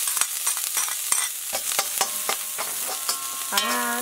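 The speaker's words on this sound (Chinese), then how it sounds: "把它炒出香味以后" Scallion, ginger and garlic are stir-fried in hot oil in a wok, with a close, steady sizzle broken by repeated scraping and clacking stirs of a spatula.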